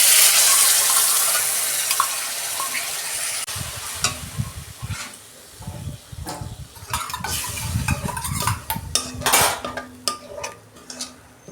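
Bowl-rinsing water poured into a hot pan of fried onion, ginger, garlic and spice paste for an okra dish, starting with a loud hissing sizzle that fades into clinks and scrapes of a utensil stirring against the pan.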